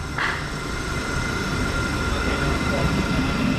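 A Class 700 electric train, unit 700 110, pulls away from a West Sussex station platform with a steady close rumble and whine of traction and wheels, and a faint voice is heard briefly.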